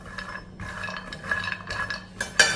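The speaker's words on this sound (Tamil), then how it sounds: "இதை ஒரு 2 நிமிஷத்துக்கு கடாயுடைய சூட்டில் மீடியத்தில் வச்சு வறுத்துக்கிடுவோம்" Walnuts, almonds and cashews are roasted over medium heat in a kadai and stirred with a spoon, giving light scraping and clinking against the metal pan, with a sharper clink near the end.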